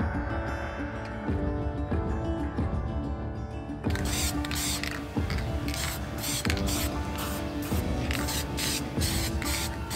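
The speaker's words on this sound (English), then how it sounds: "Once again, the little can of color match GM paint is coming in handy." Short hissing bursts of aerosol spray as GM color-match paint is sprayed onto old Chevy badges, several pulses in a row over steady background music.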